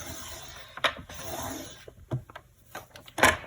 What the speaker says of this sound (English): being careful to use my lighter gray scoring blade and not my cutting blade, I'm going to score down at 1/2 inch